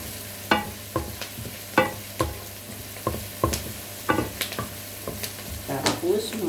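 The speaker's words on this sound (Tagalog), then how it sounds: "Maganda brown na brown ang sibuyas para malasa." Onions frying in a pan until deeply browned, a steady close sizzle broken by repeated scraping stirs of a utensil at roughly regular intervals.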